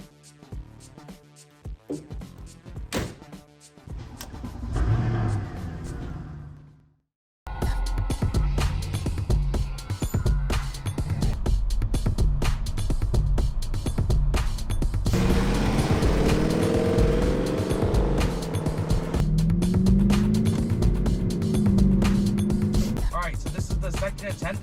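A car drives with cookies baking in its engine bay, the engine and road noise starting choppy, cutting out briefly, then settling into a steady drone with rising revving tones toward the end.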